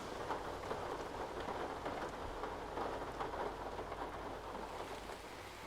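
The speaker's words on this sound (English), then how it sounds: "It's raining again." Steady rain falls continuously, a dense even patter with scattered drop detail and a soft low rumble underneath, with no voices.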